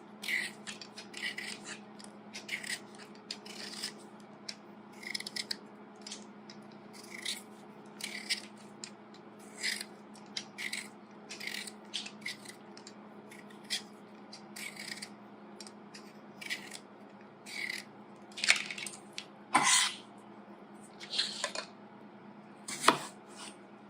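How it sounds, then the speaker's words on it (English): Potatoes being peeled and diced in a home kitchen: steady scraping and rasping strokes of a peeler, with sharper knife chops toward the end, fairly close and with no talking. "I'm just going to peel them and then dice them into small chunks."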